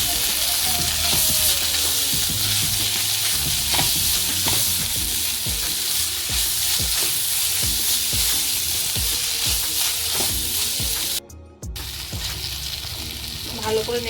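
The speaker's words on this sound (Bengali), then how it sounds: "আবারও ভালো করে নেড়ে চেড়ে নেব।" Mutton kachori filling seasoned with black pepper and salt sizzles loudly in a pan while a spoon stirs it in steady scraping strokes, a brief gap near the end before the frying resumes.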